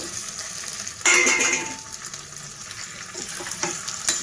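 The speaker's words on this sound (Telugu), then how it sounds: "ఇందులోనే చామంతులు కూడా వేసి మగ్గించుకుందామండి" Taro and chilli curry sizzles steadily in a pan, a close hissing fry with a sharper burst of stirring clatter partway through and no voices.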